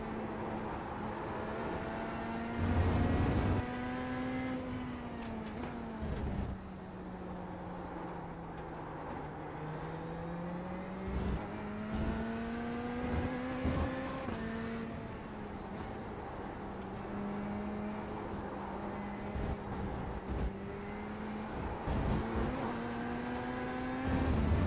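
A race car engine in a sim racing game drones and shifts pitch continuously, rising and falling through gear changes and lifts, with brief bursts of louder revving, steady and moderately quiet with no talk.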